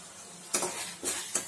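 A spoon scrapes and stirs an oil and ground pepper mixture in a pan for kari dosa, three distinct bursts of sizzle and scraping, close and fairly loud, with quiet gaps between.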